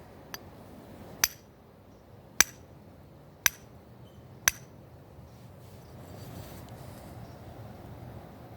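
Four or five sharp metallic clinks of a Spyderco Shaman Rex 45 knife struck against aluminum, evenly spaced about a second apart over a quiet low background, with nothing after the last strike.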